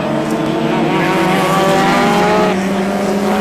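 Race car engine at the 1984 Castrol 500 touring car race at Sandown, a loud sustained roar with shifting pitch as cars pass close by.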